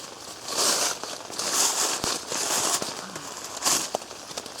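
A Gregory rain cover, a nylon backpack cover, crinkles and rustles as it is stretched over a backpack, with bursts of crisp crackling close by and brief pauses between them, with no talking.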